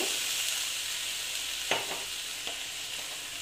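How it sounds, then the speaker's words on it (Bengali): Oats cooked with a little water in a pan, stirred over a soft continuous hiss of steaming liquid, with a couple of brief scraping knocks standing out near the middle. "জলটা দিয়ে একটু নেড়ে চেড়ে নিলাম"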